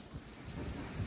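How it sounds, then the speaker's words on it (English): Low rumbling thunder rolls steadily through a lightning storm, with rain and wind noise mixed in, moderately loud and continuous with no voices. "the Huskies saw the lightning first and then got scared by the thunder"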